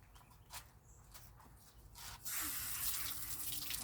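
A kitchen tap runs over freshly harvested collards, cabbage and romaine being rinsed, a quiet splash and hiss that swells into a fuller steady stream of water after a few seconds of light handling sounds.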